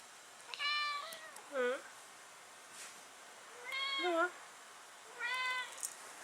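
A house cat meows three times indoors, each call clear and fairly close, with quiet pauses between them.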